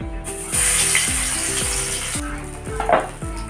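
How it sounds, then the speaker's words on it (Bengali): Stuffed pointed gourds (potol) fry in a pan with a loud, continuous hiss and sizzle. Repeated clattering knocks run underneath the frying throughout. "এবার আমি ভেজে নিব।"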